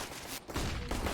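Pistol fire in a Counter-Strike: Global Offensive tournament match, a quick cluster of sharp, loud shots packed into about a second with a brief gap in the middle.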